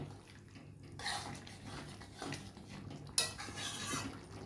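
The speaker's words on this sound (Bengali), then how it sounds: "এবার এটাকে আবার ভালো করে একটু নেড়ে চেড়ে মিশিয়ে দিলাম" A spoon scrapes and clinks in a pan as shrimp and jackfruit curry with a spoonful of ghee is stirred, with a few separate metallic strokes and soft wet shuffling close by.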